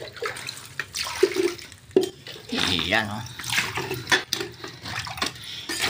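Water pours from a leaking household water pipe into a plastic dipper, splashing and gurgling close by in irregular surges while someone talks over it.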